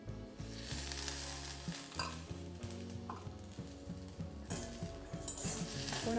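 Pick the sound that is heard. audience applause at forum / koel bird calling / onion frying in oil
onion frying in oil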